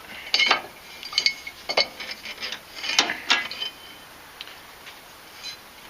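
Metal parts clink and rattle as the starter is slid out of an 18 hp Briggs & Stratton horizontal engine, a string of close, sharp clinks and scrapes coming in uneven bursts, with no talk.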